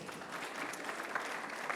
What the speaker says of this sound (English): Could we please give the Minister a round of applause?